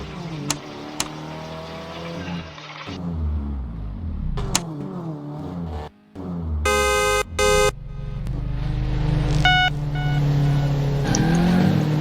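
A car in the Garry's Mod video game drives along, its engine droning and shifting pitch as it revs and accelerates, with brief synthetic beeps, steady and fairly loud throughout.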